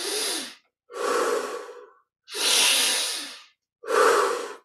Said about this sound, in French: On sent la fraîcheur de l'inspire.